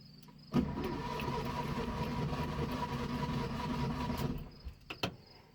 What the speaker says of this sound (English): Hopefully this engine doesn't take a lot of power to crank.